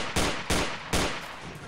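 Three sharp, loud gunshots from a World War II-era pistol in Garry's Mod, spaced roughly a third of a second apart, each with a quick decaying tail.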